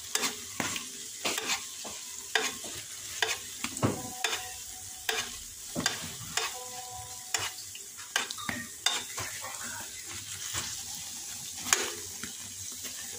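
Food fries in oil in a pan for a simple new-style breakfast dish, with a constant soft sizzle broken by repeated spatula scrapes and clinks, close up and with no speech.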